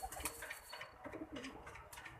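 A pigeon gives soft, low, repeated coos close by, set against a quiet room with faint background noise.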